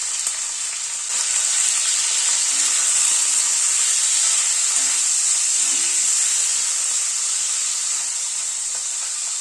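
Paneer cubes sprinkled with a little salt fry in hot oil in a pan, giving a steady, loud, even sizzle that holds unbroken throughout with no voices.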